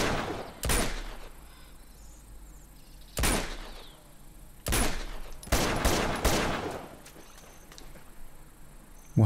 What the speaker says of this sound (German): Irgendwer hat hier gerade mit einem MG oder sowas geschossen.